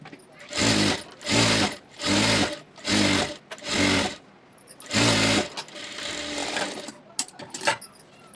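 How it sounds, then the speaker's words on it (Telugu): A sewing machine stitches along a blouse lining in five even, loud runs of about half a second each, then a longer run that trails off into softer handling noises. "ఈ పీస్ని ఇలా అనుకొని ఈ లైనింగ్ మీద పడేలాగా ఎంచమ్మటిగా కుట్టేసేయండి"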